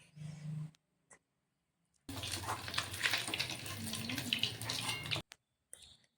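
Tangra fish sizzling in hot oil, a dense crackling hiss that starts suddenly, holds steady for about three seconds and cuts off, with quieter kitchen sounds and a brief voice around it.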